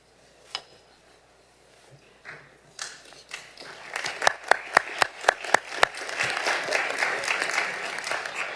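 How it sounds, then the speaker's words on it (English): Audience at a school board informational session breaks into applause, starting with scattered claps and building into steady clapping with a few sharp, close claps standing out. "I hope you'll clap at the end of the presentation,"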